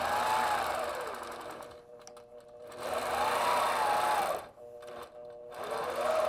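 Longarm quilting machine stitching in the ditch along sashing, a steady mechanical hum and rapid needle chatter that rises and falls with pauses between runs.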